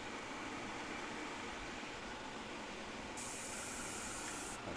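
A steady, faint hiss of an airbrush spraying orange-red paint runs continuously, with a brighter burst of spray partway through.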